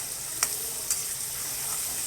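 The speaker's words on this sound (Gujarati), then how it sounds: "કાંદા ટમેટાની પેસ્ટ નાખી દીધી છે તેલમાં" Onion and tomato paste sizzles in hot oil seasoned with mustard seeds, cumin and asafoetida, a steady bright hiss close by, broken by two quick spatter pops early on, with no voices.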